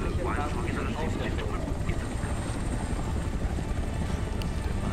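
In Homefront: The Revolution, a hovering surveillance drone gives off a continuous, loud, helicopter-like rotor hum that stays steady for the whole stretch.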